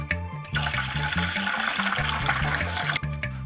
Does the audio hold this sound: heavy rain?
no